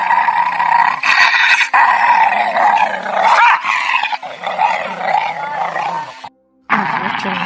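A dog's low, rumbling growl runs through most of the scene in a ghost story, loud and continuous, with a short break near the end before it resumes.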